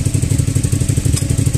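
Suzuki SV650 V-twin motorcycle engine running after a rebuild, a close, steady, uneven lumpy idle pulse with rapid regular firing beats.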